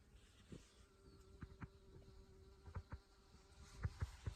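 Honey bees buzzing around a beekeeper at the hives, a faint steady drone with scattered soft taps and rustles close by, no talk.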